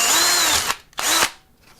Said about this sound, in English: is just drilling a hole in here that I can put a zip tie through